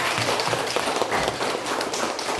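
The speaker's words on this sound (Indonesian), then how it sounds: "Tepuk tangan dulu buat kelompok 1." A classroom full of students applauds a presenting group, a dense continuous wash of many hands clapping for a couple of seconds, fairly even in loudness with no clear talk over it.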